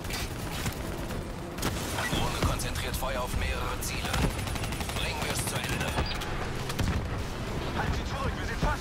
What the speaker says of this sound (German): allein durch die Explosion direkt hinter dem Teil